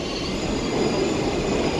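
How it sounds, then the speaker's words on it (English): Subway trains moving through a station on the New York City Transit system, a dense continuous rumble and hiss of rail cars with faint wheel squeal, loud and steady, with no voices. "if you listen, you will hear the trains moving in and out of the station"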